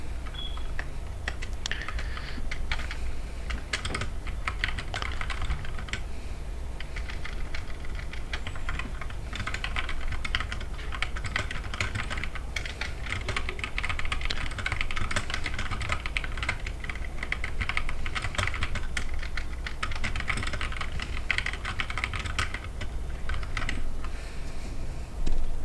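Close, steady typing on a computer keyboard runs for about twenty-five seconds, with rapid key clicks in uneven bursts and brief pauses and no speech.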